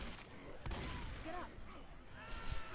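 Gunfire in Left 4 Dead 2, a burst of rapid in-game shots and scattered effects, fairly faint and busy, with a player's voice in the mix.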